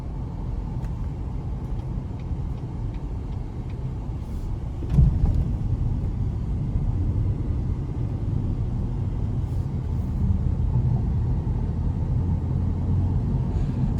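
Inside a 2021 GMC Canyon Denali 4WD pickup with the 3.6 engine, a low cabin rumble of the engine and road swells slightly as the truck accelerates, steady and fairly subdued with a brief bump midway.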